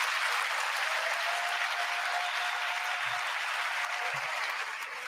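Sustained applause from a large audience at the State of the Union address, a steady broadband roar of clapping filling the whole stretch and easing slightly toward the end, with no speech over it.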